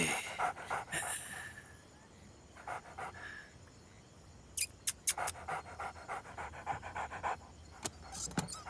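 A dog pants in quick rhythmic bursts close by, pausing briefly between runs of breaths, with a few sharp clicks and soft background noise.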